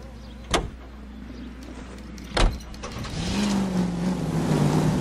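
A car in L.A. Noire starting off, two sharp thumps like doors closing, then the engine rising into a steady driving hum that holds to the end.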